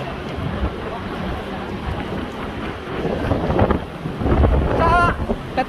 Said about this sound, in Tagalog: So windy. It's windy tonight, this afternoon.